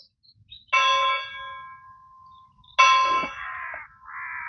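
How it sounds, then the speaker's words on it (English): Two bright metallic bell clangs ring out a couple of seconds apart, each with a long shimmering decay, the second followed by a softer lingering tone. "The bells are ringing."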